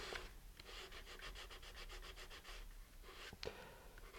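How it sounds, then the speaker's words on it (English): A small fin on a Gyro Chaser model rocket kit being sanded to remove stuck excess glue, giving a steady run of rhythmic rasping strokes at close range, then a brief pause and a few scattered scrapes. "I'll just fix that little thing by sanding it off."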